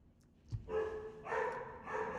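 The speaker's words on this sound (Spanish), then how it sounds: "Se tenía que meter el puto perro del vecino." A neighbour's dog barks in a short burst of sharp, moderately close barks, about three in quick succession after a brief thump, with no talking over them.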